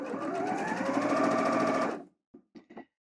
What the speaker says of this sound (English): I'm going to let go of that button now and continue to sew in the normal way